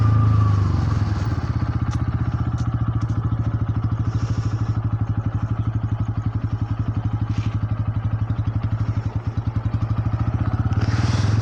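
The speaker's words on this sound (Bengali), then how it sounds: "আর এখন স্পিড আছে মোটর সাইকেল 50," Motorcycle riding at about 50 speed, a loud, steady engine drone with rapid pulsing exhaust and wind buffeting a worn microphone, continuous throughout with brief clatters.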